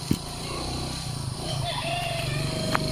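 A motorcycle engine drones steadily at idle with a low, even hum on a rural farm in the morning, with voices talking over it.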